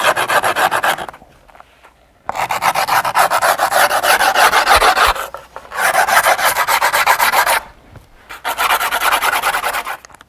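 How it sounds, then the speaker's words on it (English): A screwdriver rubbed hard along the edge of skateboard grip tape gives a loud, raspy scraping in three long strokes, each a few seconds, separated by brief pauses, with no talking. "you're gonna rub it on the side of the grip till it creates like a white line"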